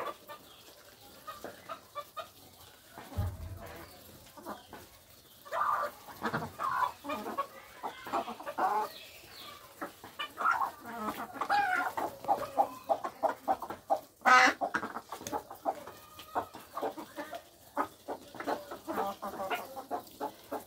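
Chickens and ducks cluck and cackle continuously near the listener, with one sharp squawk partway through; the busy fowl chatter fills the whole stretch.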